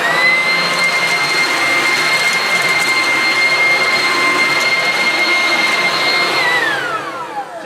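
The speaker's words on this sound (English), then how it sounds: "it is actually the most awesome blower because it has a control here" An adjustable leaf blower, run at about half power, blows dust off a blue-stone patio with a loud, steady whining rush. It holds evenly for several seconds, then winds down at the end.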